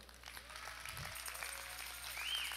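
A church congregation applauds during a sermon, a soft, steady wash of clapping heard from a distance, faint and continuous with no clear talk over it.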